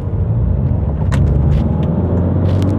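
Car cruising fast on a motorway at about 130 km/h, heard from inside as a loud, steady engine and road rumble with a constant low drone and faint wind hiss.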